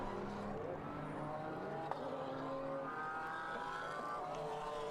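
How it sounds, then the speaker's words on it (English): Race cars circling Suzuka at reduced pace behind the safety car on a formation lap for the Japan Cup, their engines droning steadily in the distance for the whole span with no sharp passes. "As the field works its way behind the safety car on this second formation lap at a bated pace"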